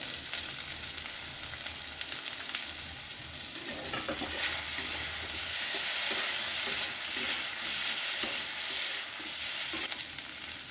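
Spices sizzle steadily in a hot pan for a papaya and potato vegetarian curry, with ginger and chili paste, cumin, coriander and chili powder added, a bright crackling hiss that swells as the mix is stirred.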